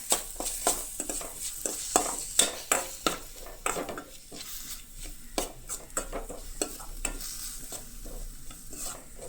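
A spatula mixes an onion mixture frying with a spoonful of paste in a pan for vada pav. Quick clacks and scrapes come in uneven bursts over a soft sizzle, close by and with no voices.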